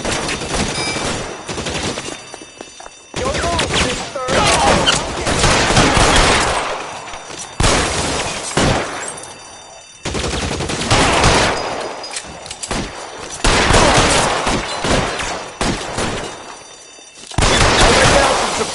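Sustained bursts of automatic gunfire in the L.A. Noire video game during a building assault, loud and dense, repeating in several long volleys separated by brief gaps.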